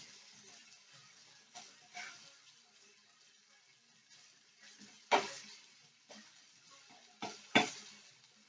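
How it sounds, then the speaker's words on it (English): Onions sizzle faintly in a pan while being stirred, with soft frying crackle underneath and a few sharp scraping clatters of the utensil against the pan standing out. "These onions almost are doing their thing. So I'm gonna move them around a little bit."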